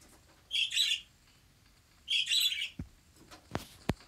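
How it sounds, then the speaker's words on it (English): In a fox simulator video game, birds chirp in two short bright bursts of tweeting, fairly close and loud, followed by a few sharp clicks and knocks. "Did not realize how loud my birds were until now."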